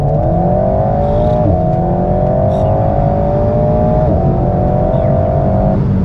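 Light sports car driven in sport mode, its turbocharged engine droning steadily from behind with intake whoosh and exhaust note, pitch rising through gears with two clear shift dips, loud and continuous without talk.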